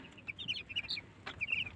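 Chickens clucking softly in a coop shared with ducks, a scatter of short, fairly faint clucks and chirps, with a brief rustle partway through.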